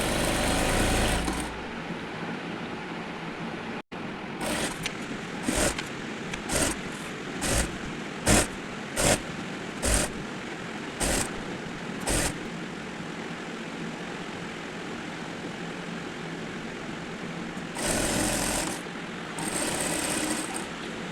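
A sewing machine stitches an open nighty in short repeated bursts of rapid whirring, about a dozen quick runs separated by pauses, with longer runs near the end.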